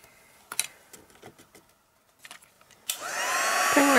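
Heat tool for melting embossing powder switched on after a few soft clicks and handling taps, then a steady rising airy blowing whine close by.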